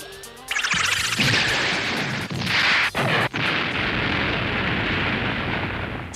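A candy bomb blows up in a 1977 Yatterman cartoon episode, a loud sustained roaring blast that rumbles on for several seconds with a few brief dips and rolling crashes.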